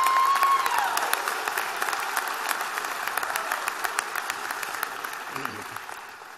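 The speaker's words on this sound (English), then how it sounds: "let's please have a big round of applause for the families and loved ones of the graduates." An audience at a university commencement ceremony breaks into sustained, loud applause for the graduates' families, a dense wash of clapping that slowly fades, with a brief voice at the start.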